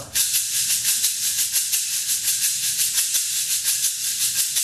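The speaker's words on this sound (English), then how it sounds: "I get a really nice crispy sound with the shaker" A Meinl SH7 fiberglass shaker is shaken in a steady rhythmic pulse, giving a bright, loud, crisp hiss with regular accents, close and alone without talk.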